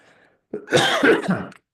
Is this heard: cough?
yes